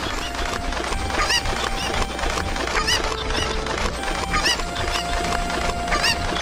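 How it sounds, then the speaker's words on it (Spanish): Cucco chickens squawk repeatedly in Zelda: Ocarina of Time, short shrill cries recurring over a steady bed of game music and ambience, with no one talking. "Ok, pinche gallo, aquí te voy a usar a ti."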